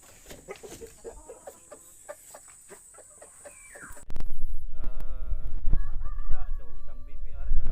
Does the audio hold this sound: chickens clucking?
yes